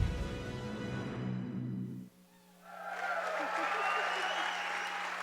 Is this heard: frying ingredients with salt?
no